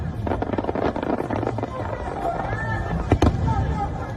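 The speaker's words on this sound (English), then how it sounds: "They were supposed to be enjoying these fireworks." Fireworks burst over Shanghai Disneyland in a rapid, crackling barrage of pops and thuds, with a crowd murmuring and a voice talking over the display.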